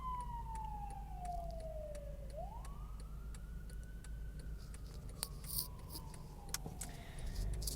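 An ambulance siren passes a car in foggy traffic, its wailing tone sweeping down and then rising again, faint and distant under steady cabin rumble, with small ticks and clicks inside the vehicle.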